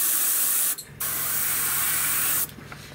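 Gaahleri Ace airbrush spraying paint at about 18 to 20 PSI, a close, steady hiss that cuts out briefly twice before resuming.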